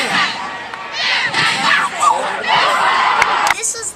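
A school crowd cheers at a middle school pep rally in a gym, loud sustained shouting and whooping with children's voices, surging in waves and dropping off briefly near the end.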